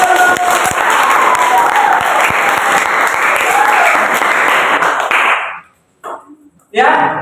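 Audience applause at an Islamic lecture, loud and close, sustained clapping that stops abruptly near the end, followed by a short pause and a voice.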